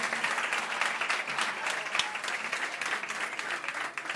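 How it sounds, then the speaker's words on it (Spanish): Sustained, steady applause from a large audience at a PSOE political rally in Córdoba in 2016, where Pedro Sánchez is visiting. The dense clapping stays loud and even throughout, with no voices over it. "Un aplauso para ella, un aplauso para este gobierno del cambio."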